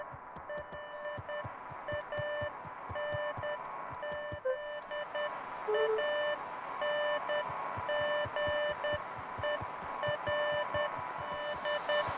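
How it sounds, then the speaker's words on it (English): Morse-style electronic beeps come from walkie-talkies in the video game Beacon Pines, a steady run of short high tones repeating over a rhythmic low pulsing background. "it sounds like Morse code coming from our walkie-talkies"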